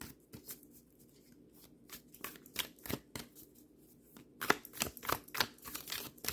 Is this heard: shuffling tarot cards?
yes